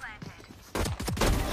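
VALORANT match: a quiet stretch with a faint voice gives way to a sudden loud flurry of close gunshots in rapid succession, filling the last half of the brief moment.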